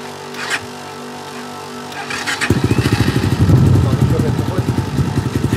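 A Kayo 250 T4 dirt bike engine sputters to life and settles into a steady, chugging warm-up idle close by, with a voice speaking briefly over it.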